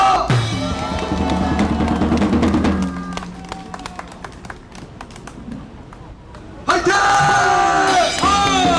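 An audience at a Korean patriotic gathering applauds and cheers a visiting association president, with loud clapping and shouts that fade into a quieter stretch, then burst back loudly near the end.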